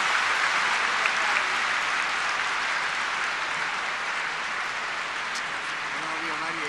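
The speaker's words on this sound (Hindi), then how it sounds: "जोर से ताली बजाएंगे" A large audience at a Brahma Kumaris gathering claps steadily, dense sustained applause filling the whole stretch with no break, fairly loud and even throughout.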